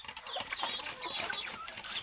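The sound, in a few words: pet chickens clucking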